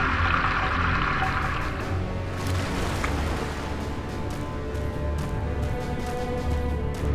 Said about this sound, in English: Water appeared in the tub out of nowhere.